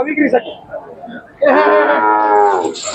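A Salgar-line calf for sale at the Sangola livestock market lets out one long, loud, close moo after a stretch of nearby talk and market bustle.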